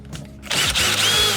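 A power drill backs a Phillips head bolt out of a Subaru Forester's 4th-gen interior trim, a loud steady whir starting abruptly and running close and continuous without talk.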